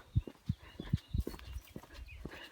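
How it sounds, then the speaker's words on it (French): Horses move in a pasture, a series of low, dull thuds of hooves on ground in an uneven rhythm, fairly close, with faint rustling and outdoor background noise and no talking. "Donc là, au pré, on a 4, 5, 6, 7 chevaux."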